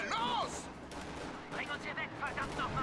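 Gunfire in the video game Company of Heroes 2 crackles in scattered shots under a busy game mix, moderately loud and distant, with voices calling out in the background.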